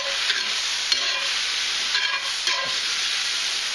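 Spinach wilting with onions and garlic in a hot pan gives a loud, steady sizzle and hiss close up, with light stirring and tossing noises throughout and no talking.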